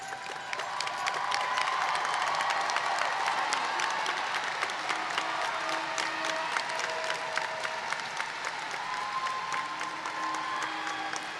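Sustained audience applause at a high school graduation ceremony as scholarship recipients stand, a steady dense wash of clapping from a large crowd that continues evenly throughout.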